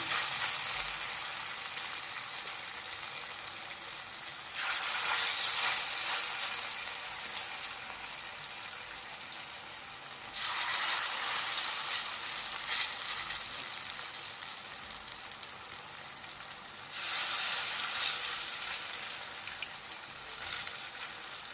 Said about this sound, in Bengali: তেলের মধ্যে আমি পটলের এই ব্যাটারটা দিয়ে দেবো দিয়ে বড়াগুলো ভালো করে ভেজে নেবো